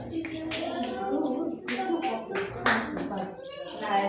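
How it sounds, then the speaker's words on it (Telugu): Children at a Sunday school clap their hands in rhythm while singing a devotional song, the claps landing as sharp, regular beats under the sung melody. "నా చిట్టి చేతులతో చప్పట్లు కొట్టేను"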